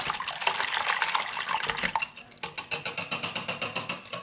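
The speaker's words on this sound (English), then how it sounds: "I'm going to just whisk this up again just to make sure my seasoning is all mixed up" Egg mixture for a veggie frittata is whisked briskly in a bowl, giving close, rapid clinking and sloshing strokes. After a brief pause it settles into a regular, rhythmic beat.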